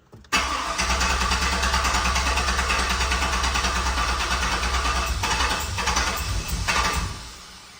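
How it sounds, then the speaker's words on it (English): A turbocharged 6 litre engine cranks over and catches with small pops, a loud, continuous rough mechanical churn lasting several seconds before fading out, recorded close with no voices. "It is giving some cranks, so it's giving some little pops there."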